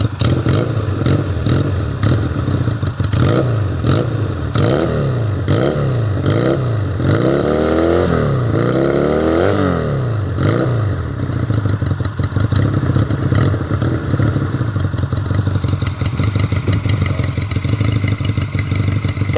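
A GPX250 twin motorcycle engine with its exhaust pipe removed revs hard to about 5,000 rpm in repeated loud bursts, rising and falling, then settles into a steady rough idle.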